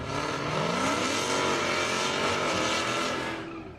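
A rear-wheel-drive Dodge Hellcat accelerates hard down an airstrip at a speed event. The engine roars loud and close and stays steady throughout, while the traction control stutters under it, before the noise fades slightly at the end.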